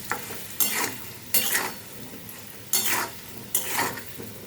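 Hilsa fish being stirred with salt and turmeric in a pan sizzles, with four distinct scraping stir strokes about a second apart rising over a steady frying hiss, close and fairly loud.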